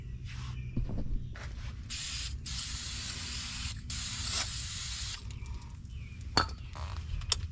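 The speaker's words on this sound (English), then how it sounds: "I've already shot some lubricant spray on this, but I'll spray a little bit more" Bursts of lubricant spray hissing from an aerosol can onto a car bolt during a front CV axle replacement, several short and long blasts with pauses between, close up, faint mechanical clicks underneath.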